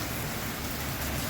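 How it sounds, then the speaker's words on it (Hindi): Heavy rain pours steadily during a strong storm in Indirapuram, Ghaziabad, a dense, continuous hiss of downpour with no talk. "बारिश बहुत तगड़ा हो रहा है"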